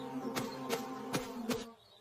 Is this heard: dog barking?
no